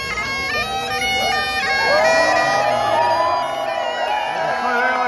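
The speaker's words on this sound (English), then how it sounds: "It's a big cheer." Onlookers at the Burryman tradition's chair-sitting give a big cheer, a dense mass of overlapping voices and whoops that rises to a peak midway and then settles, with speech mixed into the crowd noise.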